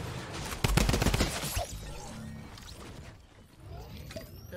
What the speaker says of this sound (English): Oh, drum gun's good.